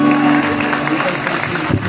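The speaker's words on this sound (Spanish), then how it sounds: "un aplauso" Applause from an audience at a tribute event honoring Raúl Sendic, a steady crowd clapping that fills the space with some voices mixed in.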